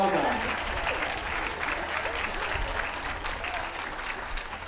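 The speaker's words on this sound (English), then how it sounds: "Take your applause." Sustained applause from a crowd at a dog show in Bournemouth, greeting the Gundog group winners as they are led round the ring, steady and moderately loud throughout with a few voices mixed in.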